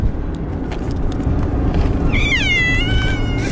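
A house cat meows right beside the microphone in a home after a move, giving one drawn-out, wavering meow over a steady background rumble that resembles a passing car.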